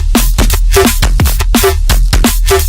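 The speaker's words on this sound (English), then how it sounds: "If you don't know what a respace is, it basically sounds like this." Drum and bass in a Noisia style with a respace effect, loud and dense, with punchy drum hits repeating in a fast rhythm and reverberant tonal stabs swelling behind them.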